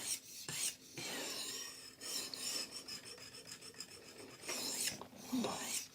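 A blade edge is sharpened with sideways strokes across a stone, giving a steady rasping scrape in repeated passes with short pauses, close and fairly loud, with no talk.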